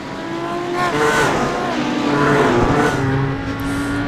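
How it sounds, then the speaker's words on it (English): Audi GT3 race cars at Mid Ohio in the iRacing simulator roar loudly as engines rev and shift through gears, with a faint tire squeal in the mix and no talking. "if you like the sound of these cars, turn up your volume, folks, and enjoy the ride"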